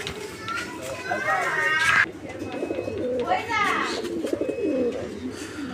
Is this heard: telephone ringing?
no